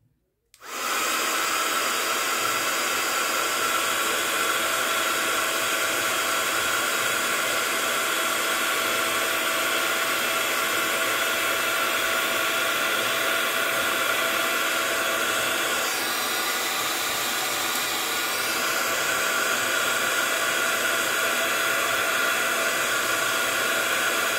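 A heat gun for craft embellishments blows steadily for about twenty seconds, a loud continuous hiss-roar that switches on abruptly and holds at an even level with no talking.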